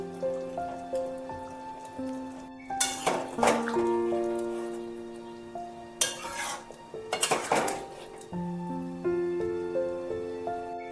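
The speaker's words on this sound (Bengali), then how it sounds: "এবার বড়াগুলো দিয়ে দিচ্ছি। বড়া দিয়ে একটু ফুটতে দিলাম।" Cabbage kofta balls dropped into a simmering curry, with close clinks and scrapes of a metal spoon and pot, a few sharp knocks around the middle, over a low steady bubbling and no talk.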